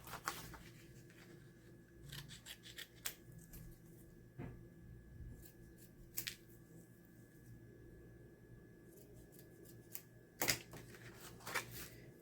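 Scissors snip paper in a quiet craft session, faint scattered cuts and rustles with soft handling noises between them.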